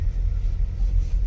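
A car drives slowly around a fishing lake toward a peg, heard from inside as a low, steady engine and road rumble with no talk.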